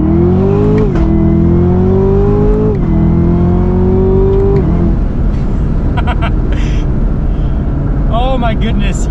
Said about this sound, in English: Well, now I got to get the acceleration here for you guys.